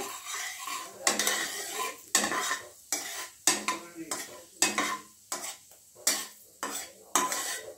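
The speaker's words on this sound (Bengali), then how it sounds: "এটাকে ভালো করে সতে করে নেব" A coriander-leaf chutney mixture being stirred in a pan over low heat, with repeated sharp scraping strokes of a utensil against metal in a steady rhythm and a faint sizzle between them, close and clear with no talking.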